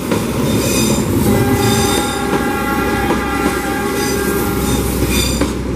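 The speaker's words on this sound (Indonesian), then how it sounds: "Kereta api Saunggalih masuk stasiun Cibatu di jalur 3" The Saunggalih train pulls into Cibatu station on track 3 with a loud, continuous rumble and sustained, high-pitched wheel squeal that holds steady throughout.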